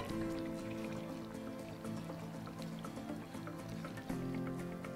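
Hot rice water is poured onto jackfruit in a cooking pot, giving a continuous close liquid splashing and dripping with soft bubbling, steady throughout.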